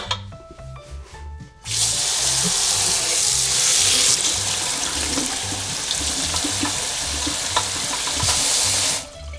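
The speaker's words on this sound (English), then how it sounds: "First things first, we need to wash our strawberries." Strawberries being washed under a running kitchen tap, water gushing steadily for several seconds after a quieter start, then cutting off at the end.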